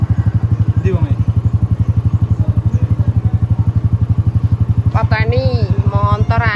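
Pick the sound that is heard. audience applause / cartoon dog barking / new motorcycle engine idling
new motorcycle engine idling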